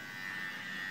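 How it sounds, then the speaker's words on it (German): A small electric clipper buzzes continuously and steadily on a dog at a grooming salon, a close, even motor hum with no voices. "Das ist wie ein Damen-Intim-Rasierer."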